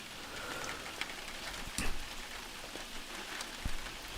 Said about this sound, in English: It could be such a nice day if it wasn't for this stupid rain